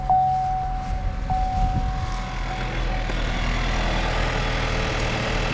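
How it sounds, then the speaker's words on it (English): A car engine cranks and starts, then idles steadily with a continuous low rumble and a faint high whine, close and fairly loud, with no voices. "Okay, start engine."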